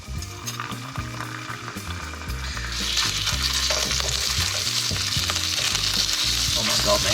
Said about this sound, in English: we can't hear it because of the sizzle of the burgers